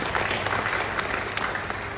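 A crowd at a graduation ceremony claps continuously for a couple of seconds, a dense and fairly loud burst of many hands without pause.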